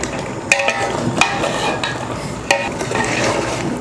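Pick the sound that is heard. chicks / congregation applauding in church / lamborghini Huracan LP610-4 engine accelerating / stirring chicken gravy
stirring chicken gravy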